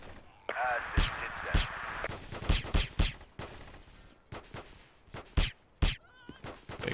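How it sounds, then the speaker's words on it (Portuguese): Repeated muffled silenced gunshots in Battlefield 2 pop in uneven bursts, some close together, with faint voices talking underneath. "Eu ia falar do som do tiro, mas tem um silenciador, né?"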